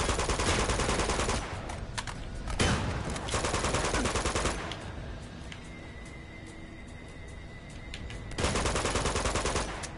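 Gunfire aimed at the player in Uncharted 2: Among Thieves, sustained automatic bursts, loud and close, pausing briefly in the middle and then returning at full intensity, with no talk over it.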